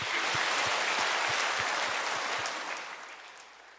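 A church congregation claps together after a closing prayer, a dense broad wash of applause that holds steady then gradually fades toward the end, with no voices over it.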